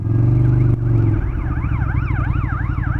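An ambulance siren passes on a street in Uppsala, its wailing tone sweeping up and down steadily over a loud engine and road rumble that drops off partway through.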